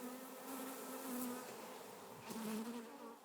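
Honeybees buzzing at a beekeeper's hives in Corsica, a soft steady drone with a few individual bees passing close and fading, quiet and with no talking.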